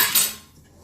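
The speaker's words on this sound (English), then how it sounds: "we are going to use the spoon to fill our batter in here" A spoon clinks sharply against a metal sev maker while besan batter is filled in, one bright ringing tap that quickly fades.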